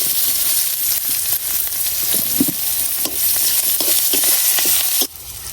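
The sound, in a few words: garlic and onion frying in a pan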